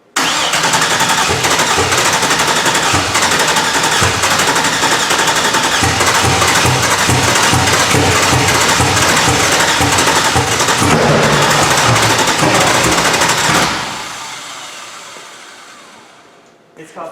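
Small tire drag car engine starting up after pump priming, bursting into a loud, rough, steady idle right next to the listener for about thirteen seconds before cutting off abruptly and fading into quiet.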